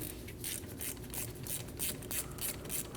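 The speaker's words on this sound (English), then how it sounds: "Using an 11mm socket, remove the banjo bolt for the brake line." A ratchet with an 11mm socket loosens the brake line banjo bolt on a 2012-2022 Volkswagen Passat during a front brake hose replacement, giving a quiet, rapid string of clicking pawl ticks close by.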